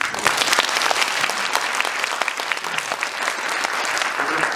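A cinema audience at a guest-visit screening of the film Kingmaker gives a big round of applause, sustained dense clapping throughout with a faint crowd murmur beneath it.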